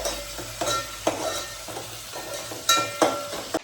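Onion and tomato sizzle and fry in a pan for a Malvani shellfish (khube) dish, with a steady crackle broken by several sharp scraping stirs and clinks close by; no one speaks.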